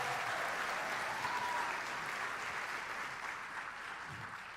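Church congregation applauding and cheering during a worship service, a dense steady wash of clapping that fills the room and holds without pause, slowly tapering slightly toward the end.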